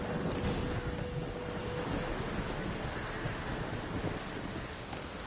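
A storm at sea in The Witcher 3 gives a constant roar of wind, waves and rain, dense and loud throughout with no clear breaks.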